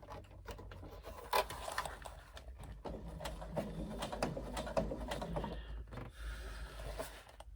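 A sewing machine stitching a seam on a backpack panel, a quiet rapid mechanical chatter in short bursts with brief pauses and handling clicks, heard close in a calm room.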